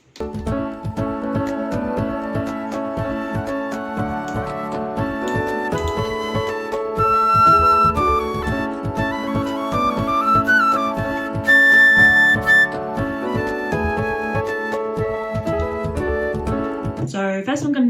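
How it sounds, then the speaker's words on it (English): A comped flute recording plays back from a Pro Tools session, sustained breathy melodic notes over a full backing of chords and steady beat, loud and continuous for the whole stretch. "I've comped the flute to have it sound something like this."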